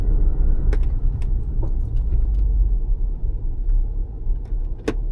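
A Land Rover Discovery SDV6 drives and then coasts, heard from inside as a low steady engine and road rumble with a few small clicks and rattles.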